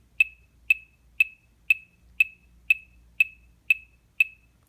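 Boss Dr. Beat DB-30 metronome on setting 0, quarter-note rhythm: nine identical sharp high clicks at an even, brisk tempo, all the same pitch, close and clean over near silence.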